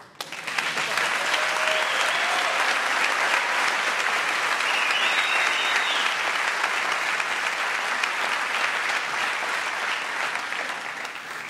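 A comedy-club audience at a French stand-up show claps in a dense, steady ovation that holds for about eleven seconds before easing slightly at the end, with no one speaking over it.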